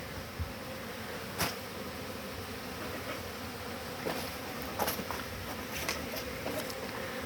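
Honeybees fly out of their hives on a first winter cleansing flight at New Year, producing a continuous soft buzzing hum of many insects nearby. Occasional fainter clicks and taps sit over the steady drone.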